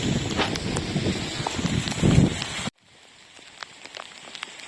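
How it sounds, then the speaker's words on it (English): Hail patters and rattles steadily outdoors during underbody sealing work on a BMW E46, a dense loud hiss of ice hitting surfaces that cuts off abruptly partway, leaving only sparse faint ticks afterward. "And now it starts to hail."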